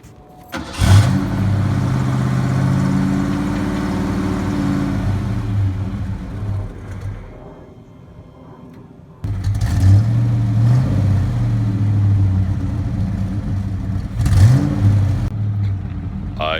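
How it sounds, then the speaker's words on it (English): A Foxbody Mustang engine with an exhaust leak runs close by in two loud stretches, a rough, throaty idle with brief blips, broken by a short quieter lull in between. "I hear an exhaust leak."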